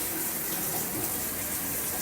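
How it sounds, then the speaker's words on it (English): A black handheld shower head sprays water at high pressure in a steady, close, even hiss with no pauses, heard alone. "if you turn the knob, you have a really high pressure coming out of the handheld"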